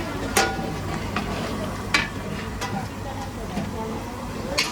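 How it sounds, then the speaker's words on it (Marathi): A large pot of mutton curry for a village feast bubbles and sizzles at a boil, with occasional sharp utensil clinks and background voices. "उकळी आली आहे."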